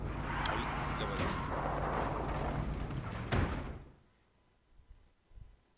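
A car accident in the video game Kona: a rumbling engine and road noise end in a sharp, loud crash impact, followed by sudden near-silence with a few faint knocks.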